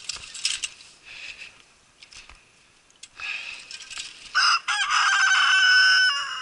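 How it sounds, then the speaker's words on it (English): A silkie rooster crows nearby, opening with scattered clucks and clinks before a loud, drawn-out crow rings out over the last couple of seconds on an off-grid homestead. "That silky bird's a big boy now."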